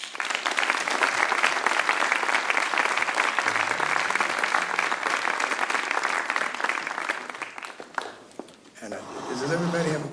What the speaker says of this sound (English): please give a big round of applause to George Coleman